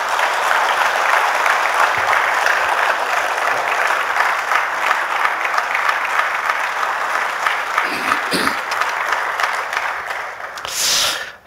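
A church congregation at an evening worship service applauds to welcome the pastor to the pulpit, sustained loud clapping that holds steady for about ten seconds before tapering off with a few stray sounds at the end.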